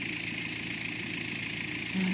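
BMW N47 diesel engine idling after a timing chain replacement, a steady, smooth, quiet hum throughout with a slight low swell near the end.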